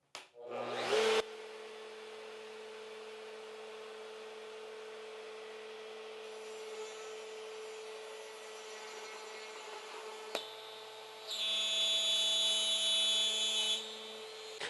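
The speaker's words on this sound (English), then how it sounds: "I have a straight bit in there, and I'm just going to do a plunge cut and then a very short slot." A router with a straight bit runs at a steady high whine on a router table during a plunge cut into wood, with a brief spike and then a louder, brighter cutting stretch near the end.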